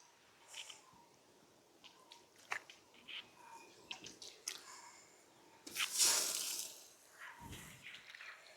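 Soaked rice for chicken dum biryani goes into a pot of boiling water, with soft wet plops and splashes, light bubbling and a louder splashing burst near the middle, close and fairly quiet without talk.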